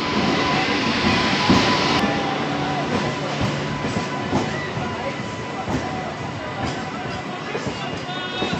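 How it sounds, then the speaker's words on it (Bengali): A passenger train rolls into Mashagram railway station with a steady loud rumble, rhythmic wheel clatter and a brief squeal, while people talk over it. "দেখতে পাচ্ছেন মশাগ্রাম যে রেল স্টেশন, সেই স্টেশনে অলরেডি গাড়ি ঢুকে গেছে"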